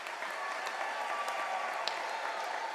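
Applause from a large crowd honoring graduates at a UNISA autumn graduation ceremony, a soft, distant, steady wash of clapping with no voices.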